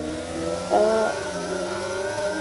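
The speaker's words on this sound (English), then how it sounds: "Ferrari reversing back" Ferrari in a sim racing game reversing at the Bahrain circuit, a mid-pitched engine whine holding steady with a brief louder swell partway through, alone without talk.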